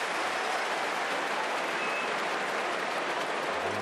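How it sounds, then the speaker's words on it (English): Dense, steady applause from a big crowd at an AFL football match at the Sydney Cricket Ground, a continuous wash of clapping heard from a distance with no breaks. "huge round of applause rang around the SCG"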